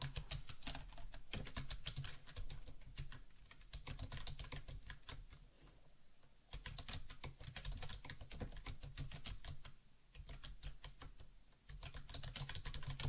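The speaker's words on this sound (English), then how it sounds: "So let me type a sentence." Fingers type steadily on a computer keyboard, a fast run of soft clicky keystrokes with brief pauses, faint and close with no talking.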